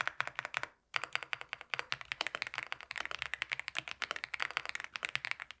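Typing on a dampened hot-swappable RGB gaming keyboard: rapid, even keystrokes clattering close to the mic after a brief pause near the start, soft and muted with no voices.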